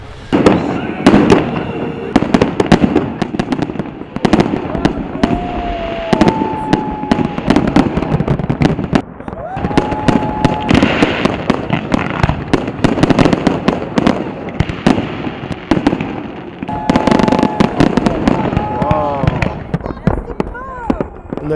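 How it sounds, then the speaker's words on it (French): Fireworks display with a final bouquet at the Alpe d'Huez ski resort, fired from three sites: dense, rapid crackling and popping bursts with whistling rockets, loud and continuous, with a crowd audible underneath. "les feux d'artifice se répondaient et avec un bouquet final en commun"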